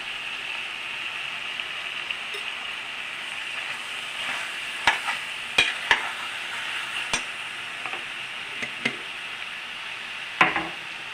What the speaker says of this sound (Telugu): గరం మసాలా పొడి వేసి కొంచెంసేపు వేగనివ్వాలండి